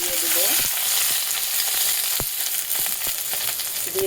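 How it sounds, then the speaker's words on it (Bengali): Green chilies fry in a little oil in a wok, a loud constant sizzle close by with occasional clinks and scrapes of stirring, no talking. "কড়াইটা বসিয়ে নিয়েছি সামান্য পরিমাণে একটু তেল দিয়ে দিব"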